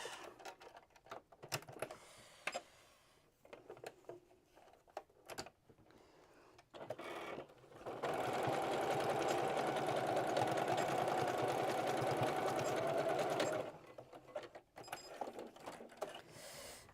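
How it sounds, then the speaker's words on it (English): A sewing machine zigzag stitches down overlapped elastic on Christmas pajamas, running in one steady, loud burst of about six seconds after scattered handling clicks, then stopping. "I'm going to overlap this and just zigzag stitch down here."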